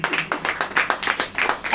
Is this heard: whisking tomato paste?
no